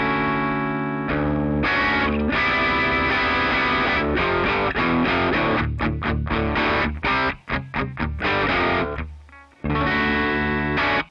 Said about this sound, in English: This first IR is a custom ribbon mic on this 212 American cab.